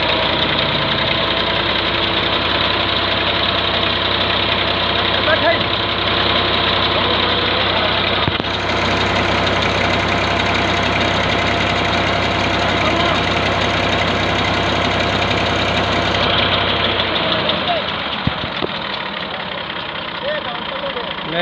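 A small Massey tractor engine drives the shaft of a newly bored tube well, a loud, steady mechanical drone with a knocking pulse that holds throughout and eases near the end.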